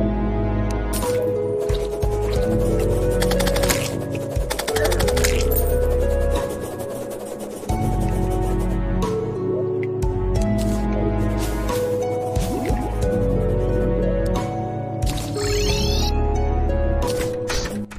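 Background music from Terraria with the Calamity mod plays on a continuous bed of bass and layered synth tones, mixed with scattered in-game scraping and clinking effects, steady and moderately loud without speech.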